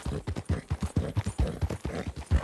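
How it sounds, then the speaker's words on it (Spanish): Horse hooves clip-clop in a roleplay video game, a steady, evenly paced clatter of hoofbeats, clear and close, with no talk over it. "Los caballos."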